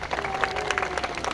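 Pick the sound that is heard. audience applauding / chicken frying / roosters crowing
audience applauding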